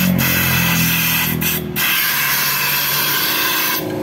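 A loud, sustained hiss of cleaner spray fills the scene as a Rusi DL 150 motorcycle fork oil seal is cleaned, continuous and close with a brief drop in the middle.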